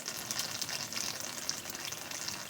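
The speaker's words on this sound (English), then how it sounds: "what you want is a nice good stream through the tubing, so you make sure that the water's getting all of" Water streams steadily through the tubing of raw-milk milking equipment during cleaning, a continuous hissing gush with no talk over it.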